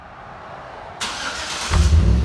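A Chevy Avalanche LTZ with a 5.3L V8 and an aftermarket Flowmaster-style exhaust fires up close by, a burst of starter and catch followed by a deep, loud idle rumble that swells as the engine settles.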